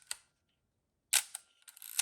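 Metal shutter of a rangefinder film camera firing loudly up close: a sharp click, a pause, then another crisp snap followed by quick ratcheting mechanical clicks.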